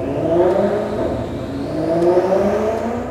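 Maserati exhaust with a steady engine drone and slow swells of revving, dense and sustained throughout, blended into an ambient musical bed.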